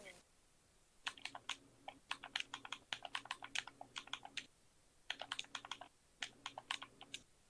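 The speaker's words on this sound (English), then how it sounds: "It's just your keyboard's clicking." A computer keyboard clatters with quick bursts of key clicks, typed in rapid runs separated by short pauses. It sounds close and crisp over a faint steady hum.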